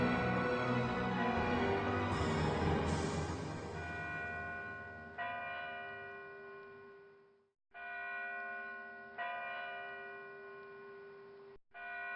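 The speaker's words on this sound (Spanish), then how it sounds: "las campanas de la ciudad doblaban a lo lejos" Large city church bells toll in the distance with long ringing overtones, struck a few times and decaying slowly, heard alone without any voices.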